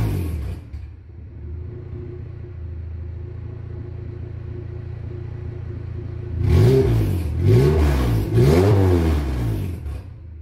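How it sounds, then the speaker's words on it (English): Honda K20 engine in an EK sedan running rich, idling with a steady low rumble before three sharp throttle blips rise and fall in quick succession, loud and close. "The car runs very rich when it just starts up."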